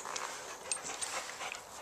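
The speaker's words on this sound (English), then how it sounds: "Here comes a little dog." A small dog whimpering indoors, a few faint, thin, high-pitched whines and soft yelps in quick succession over quiet background noise.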